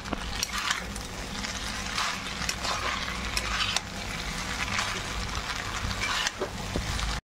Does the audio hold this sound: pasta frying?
yes